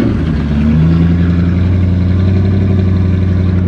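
A Subaru BRZ / Scion FR-S / Toyota GT86 sports car drives hard around corners, its engine a loud, steady, close drone with shifting pitch and no talk over it.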